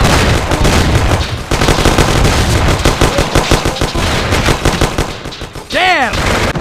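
Loud, close automatic gunfire rattles through a shootout in the video game Mafia, sustained bursts with a brief lull, ending with a ricochet-like whine.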